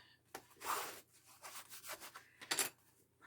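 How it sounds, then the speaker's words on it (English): Glued paper envelope pocket being burnished flat by hand, a series of short close dry rubbing strokes in uneven bursts with brief silences between them, fairly quiet. "Burnish it."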